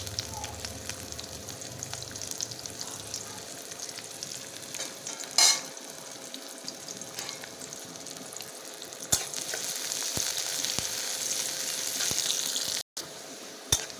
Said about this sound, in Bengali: ডিমটা ভাজার জন্য কড়াইয়ের তেল আর দুটো কাঁচা লঙ্কা অল্প একটু পেঁয়াজ